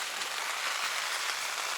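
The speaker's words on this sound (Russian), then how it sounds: "Дождь идет непрекращающийся." Steady rain on a hunting trip falls as a dense, even hiss with no breaks, close and moderately loud, with no talk over it.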